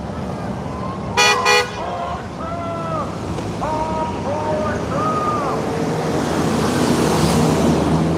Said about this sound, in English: I don't think saying honk for Trump means that they're actually honking for Trump